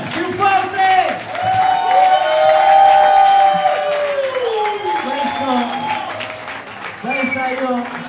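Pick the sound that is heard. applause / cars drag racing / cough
applause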